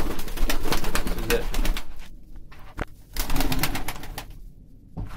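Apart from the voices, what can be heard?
pigeons cooing in coop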